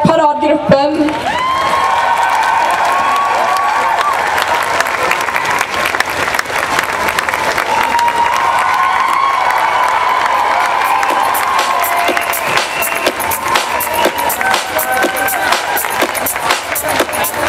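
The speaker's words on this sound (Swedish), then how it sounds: "Ge en varm applåd till styrelsen och paradgruppen." A large outdoor crowd at a Pride festival in Jönköping claps and cheers loudly and steadily, with shouts and whistles rising above the dense applause throughout.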